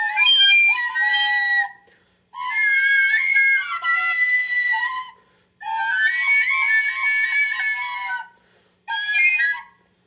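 A handheld whistle plays a song melody in a live-style cover: bright, piercing fingered tones in four phrases separated by short silences, with no talking.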